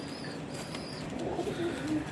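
Soft, low pigeon coos rise near the end over a murmuring background, a few rounded calls close by.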